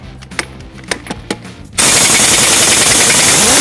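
A pneumatic impact gun works on a semi truck brake chamber, starting with several short separate bursts and then breaking into a loud, continuous, rattling roar that holds steady to the end.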